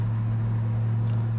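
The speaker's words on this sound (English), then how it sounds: "Dual exhaust sounds real nice on the car." Steady low exhaust drone from a 1968 Plymouth Road Runner with dual exhaust, heard as an even, moderately quiet rumble from inside or near the moving car.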